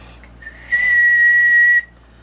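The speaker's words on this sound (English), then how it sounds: "And going about 60 watts with the whistle" A single steady, high whistle sounds into a radio microphone and holds for about a second before cutting off cleanly. It is close and loud, with no talking.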